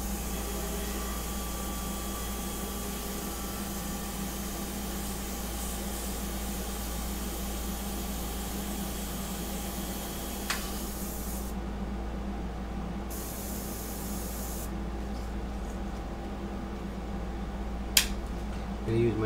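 An airbrush sprays paint for a sepia fine-art portrait, giving a steady, even hiss that runs unbroken throughout at moderate level, with faint clicks near the end.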